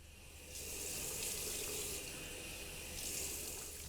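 Water gushing from a bathroom tap into a sink while a face is rinsed clean of makeup and sunscreen, a steady close rush with slight splashing swells, no talk.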